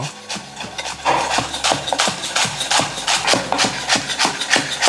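Quick, rhythmic knife taps on a cutting board chopping the green part of green onion, a steady run of close, crisp chops with no talking.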